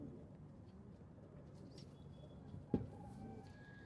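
Soft, low pigeon cooing murmurs steadily in the background, with a brief knock and faint higher chirps over a quiet, hushed scene.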